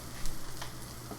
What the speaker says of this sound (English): I'm pretty sure you can hear the sizzle sound.